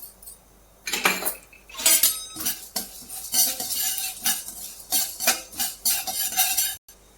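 Urad dal and coriander seeds dry roast in a pan, stirred with a metal spoon that scrapes and clinks in irregular bursts, the seeds rattling against the pan.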